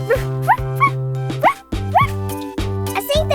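Puppies yip and bark in short, high bursts close by in a kitchen while dough is being made.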